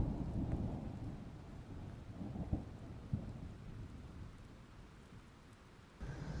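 Heavy tropical rain pours steadily in Martinique after Hurricane Isaac, with thunder rumbling and a couple of sharp cracks breaking through the continuous downpour.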